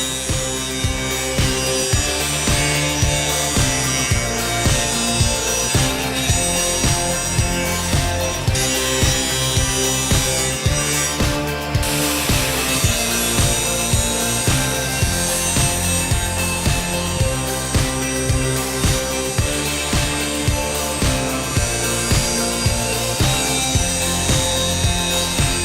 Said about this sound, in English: I'm just trying to put a bevel on it.